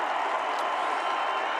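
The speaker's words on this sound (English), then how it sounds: "So I want one more round of applause for this team that was together" A packed stadium crowd at Sanford Stadium applauds the Georgia football team during its 2022 national championship celebration, a dense, steady wash of clapping and crowd noise that holds evenly throughout with no individual voices standing out.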